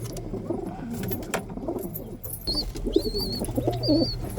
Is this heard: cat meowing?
no